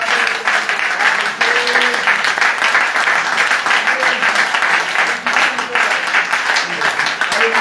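A church congregation claps and applauds in praise of the Lord, a steady, dense wall of clapping that keeps going from start to finish, with voices calling out underneath.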